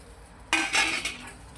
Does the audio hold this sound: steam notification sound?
no